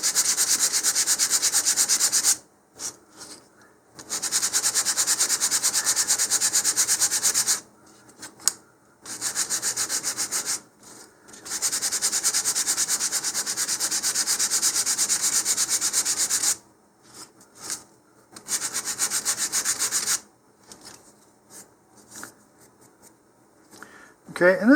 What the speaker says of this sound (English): the last thing to do is to sand the face on each side.